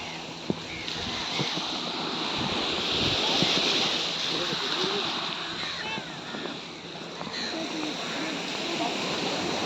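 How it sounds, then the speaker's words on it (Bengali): Sea waves wash in at the Negombo dry fish market shore in Sri Lanka, a steady broad surf rush with swells of louder surge, mixed with faint birds and background voices. "এটা হচ্ছে সাগর।"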